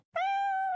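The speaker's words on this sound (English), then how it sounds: "This is the Munchkin, a cute cat that's a little vertically challenged." A Munchkin cat, a short-legged breed, gives a single clear, close meow that rises quickly and holds steady for most of a second before stopping, with no talking.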